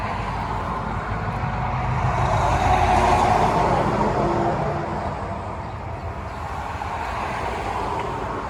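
A car and then a truck drive past close by on a 70 km/h road with a speed camera, a loud rising and fading roadside whoosh with no voices.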